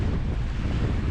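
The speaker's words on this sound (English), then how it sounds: "It's got a little bit blustery and gusty now as we're entering the evening wind" Gusty evening wind roars steadily across the microphone on a small sailboat in big waves, a dense, low, buffeting rush with no voices.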